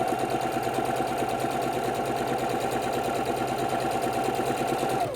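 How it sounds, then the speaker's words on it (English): A sewing machine stitches across a quilt block, a fast steady mechanical whir running evenly at close range before stopping abruptly at the end, with no talking. "line yourself up with the lines for a 1/2 inch, and we're going to sew across"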